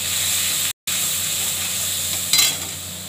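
Red chili powder, turmeric and salt being sautéed for a Bengali fish curry, a soft continuous sizzle in the pan with a short gap of silence and a brief brighter hiss of stirring toward the end.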